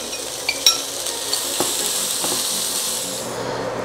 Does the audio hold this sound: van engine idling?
no